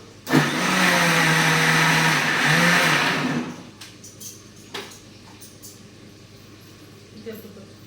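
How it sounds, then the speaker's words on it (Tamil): A loud mixer grinder grinds masala finely, whirring steadily for about three seconds, then stops, leaving quieter clatter and faint sounds behind. "மிக்ஸி ஜாலில் கொஞ்சம் நைஸாக நல்லா அரைச்சி எடுத்துக்கலாம்"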